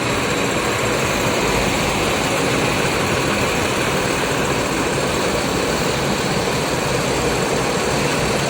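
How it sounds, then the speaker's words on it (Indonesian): A PT. Rapi bus, ex Big Bird, idling steadily before departure, a constant loud low engine rumble with a broad mechanical hiss, close and unchanging throughout, no talk. "mesinnya udah dihidupin"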